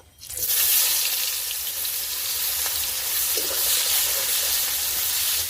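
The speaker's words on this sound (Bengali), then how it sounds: "এবারে মাছ ভাজার তেলেতে আমি পেঁয়াজটা দিয়ে দেব।" Onion slices sizzle and crackle in hot oil left from frying rohu fish, a loud, steady frying hiss that starts abruptly and continues without a break.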